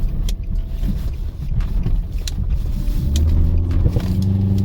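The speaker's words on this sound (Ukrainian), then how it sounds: "поскакаю по трамвайним рейкам, послухаємо, як воно буде" A 2014 Nissan Sentra SL with a 1.8-litre engine and automatic transmission rumbles along with low engine drone, jolting over tram rails with a few sharp knocks and bumps, the engine rising slightly toward the end.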